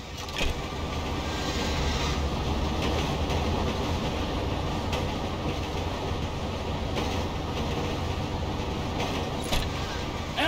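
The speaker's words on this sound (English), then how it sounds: "The train ain't stopping here, boys!" A train rolls along its tracks in Grand Theft Auto V, a steady, loud rumbling and clattering that continues evenly throughout, with faint game ambience and no clear talk.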